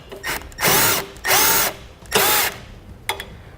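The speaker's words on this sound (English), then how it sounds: "then we'll tighten up the hose clamp, secure our bracket" A power driver tightens a hose clamp around a trailer hitch bracket in three loud, close whirring bursts of about half a second each, followed by a brief final spin.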